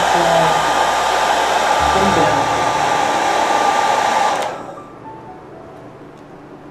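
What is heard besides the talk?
hair dryer drying cupcake decoration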